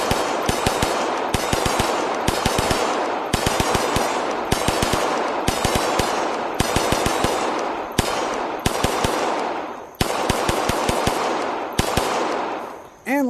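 A Walther PDP pistol fires in a VR shooting game, with rapid sharp shots in quick bursts and short pauses between groups, loud and close with no talking.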